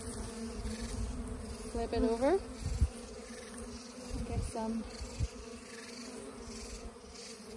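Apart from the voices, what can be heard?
honeybees buzzing while shaken from comb of top-bar hive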